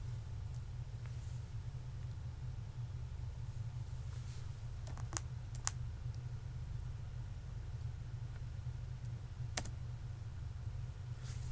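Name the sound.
computer keyboard typing and pressing enter in Tally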